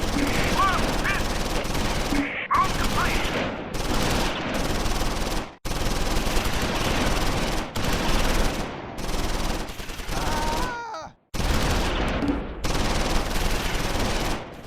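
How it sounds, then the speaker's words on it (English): Sustained bursts of medium machine gun fire rake an infantry squad near a bridge in the Close Combat 4 war game, loud rapid rattling volleys broken by short pauses, with other battle noise mixed in. "The medium machine gun opens up on an infantry squad near the bridge."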